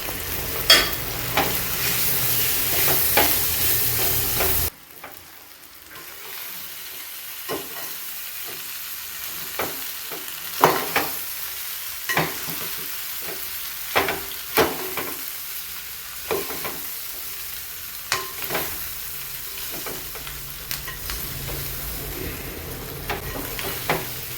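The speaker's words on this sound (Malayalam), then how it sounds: "നന്നായിട്ട് ഇളക്കി യോജിപ്പിച്ച് നല്ലോണം ഒരു മുരിച്ചിൽ വരുന്നത് നമുക്ക് ഇളക്കാം" Pork frying in a pan as it is stirred until crisp, with a steady close sizzle, a louder stretch at the start and repeated scraping stir strokes throughout.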